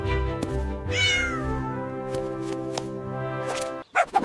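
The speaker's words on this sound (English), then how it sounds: "C for cat." A cat meows clearly and close up over a bright, steady children's rhyme backing track, followed by a few short, sharp sounds at the end.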